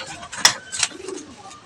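Breeder's pigeons cooing close by, a soft low burbling coo rising and falling under a couple of sharper bird chirps and wing or cage noises in a brief stretch.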